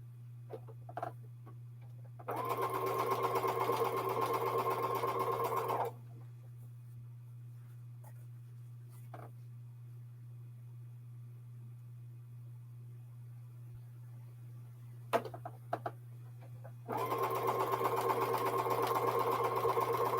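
A sewing machine pieces jelly roll strip quilt blocks in two steady runs of rapid stitching a few seconds each, separated by quiet handling clicks and a low background hum.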